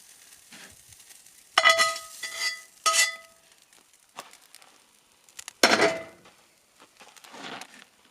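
Broccoli charring in a hot pan over a camp stove, with sizzling bursts and clinks of stirring at irregular intervals and quiet gaps between, close and clear.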